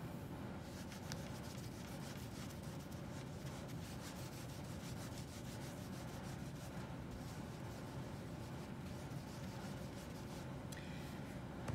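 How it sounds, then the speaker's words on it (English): A rolled clay slab for ceramic poppies has its top smoothed by hand to remove canvas-pad texture, giving a steady, soft, close rubbing and scraping that runs unbroken and fairly quiet throughout. "smooth the top of the clay to get rid of any texture left behind from the canvas pad"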